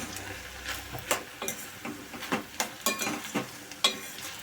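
Spoon stirring ridge gourd palya in a pan on the stove, giving repeated scraping and tapping strokes in an irregular rhythm over a faint background sizzle, close and moderately loud.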